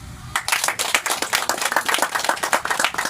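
Clapping from an audience of leaders hosting a Welsh delegation in Bali, bursting in abruptly after a short quiet moment, then carrying on as dense, rhythmic, fairly loud claps that nearly fall into unison.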